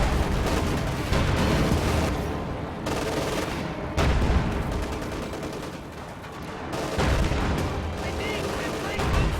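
Video game tank battle with Soviet field guns: dense, continuous gunfire and heavy cannon booms overlapping almost without pause, loud and chaotic, with occasional brief lulls.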